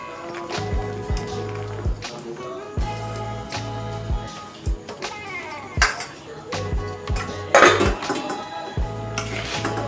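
Vegetables for a mixed pickle of carrot, lemon, chili, olive, cabbage and ginger stirred in a metal pan in oil, with repeated clanks and scrapes of a utensil against the metal in irregular bursts, close and fairly loud.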